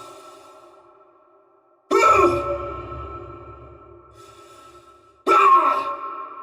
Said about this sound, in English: The exerted breaths didn't interject the base breathing.